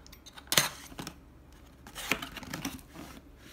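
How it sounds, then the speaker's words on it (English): Packing tape is peeled off the cardboard box of a Blue Yeti USB microphone, giving two sharp, scratchy ripping bursts with quieter rustling and crinkling between them, close by. "let's take this tape off first"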